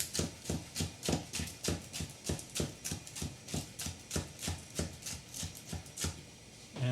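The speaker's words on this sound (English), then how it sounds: "I'm just going to do some finely chopped green onion." A knife finely chopping green onion on a board, with quick, even strokes at about three per second, close and clear, for a gluten-free lemon spinach shrimp pasta.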